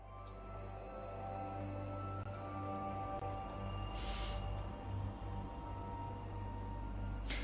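Steady rain drums on a tin roof in the game Fallout 4, a dense even patter that runs the whole time, with a brief brighter spatter of drops partway through.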